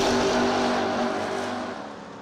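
Drag race cars launch off the line with a loud engine roar that fades as they pull away, the long roof machine among them leaving with its wheels up.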